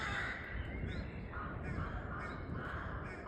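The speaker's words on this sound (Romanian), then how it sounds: "Acolo sunt două păsări care se ceartă." Two crow-like birds squabble near a nest, harsh overlapping caws and rasping calls that run without a break, fairly close above constant outdoor rumble.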